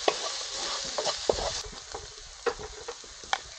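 Spiced kakrol (spiny gourd) paste with chilli powder and a little sugar being stirred and fried in a pan, a close steady sizzle broken by scraping spatula strokes and taps, no talking.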